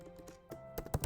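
Keys on a computer keyboard are tapped in a short, uneven run of soft clicks, close and fairly quiet, ending with a few firmer strokes.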